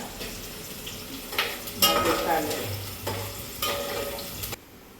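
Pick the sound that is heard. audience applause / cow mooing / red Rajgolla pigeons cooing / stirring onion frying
stirring onion frying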